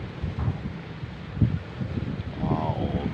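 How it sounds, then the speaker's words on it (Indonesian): Strong wind buffets the microphone at Gresik harbour, a continuous low rumbling roar with gusty swells and faint background sounds, while someone speaks over it. "angin kencang guys, di area pelabuhan Gresik."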